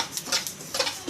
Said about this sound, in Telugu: ఇప్పుడు అదే ప్యాన్లో నువ్వుపప్పు వేసుకొని వేపుకోవాలండి